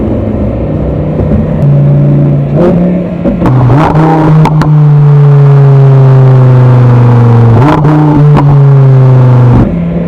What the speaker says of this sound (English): The downshifts get me every time. I love that sound.